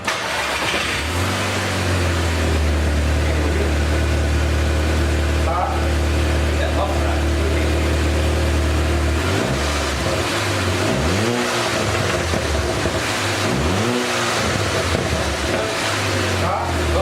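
A Volkswagen Passat with a custom exhaust idles with a deep rumble, then revs sharply three times, each rev rising and falling, loud and close, with a throaty exhaust tone.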